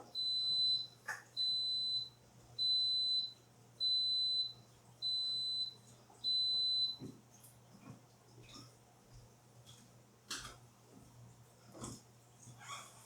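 An Instant Pot signals the end of a cheesecake cooking cycle with six evenly spaced high beeps, each about half a second long, followed by quiet room sounds and a few faint clicks and knocks.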